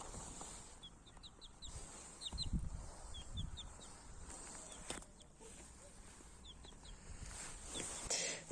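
Pekin and Padovana hens clucking softly on a farm, a scatter of short, faint clucks and chirps coming in small clusters over a quiet background.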